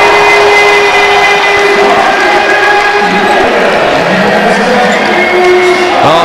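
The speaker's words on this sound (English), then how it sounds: "it's so good to see those fans clapping and happy" Crowd at a college basketball exhibition game clapping and cheering steadily throughout, with ball bounces and sneaker squeaks, under a commentator's voice.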